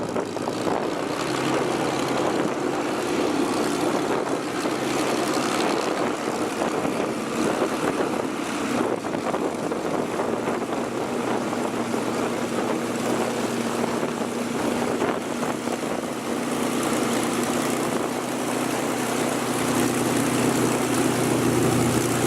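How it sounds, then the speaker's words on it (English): A Spitfire propeller aircraft taxis back to the hangar, its engine and propeller making a steady, loud, broadband drone that continues throughout with slight swells in intensity. "My pilot Pete taxied us back round to the hangar."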